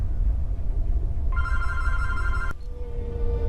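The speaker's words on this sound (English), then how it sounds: "And there's my phone." A telephone rings partway through a stretch of quiet background, sounding as a steady electronic warble for about a second that cuts off abruptly.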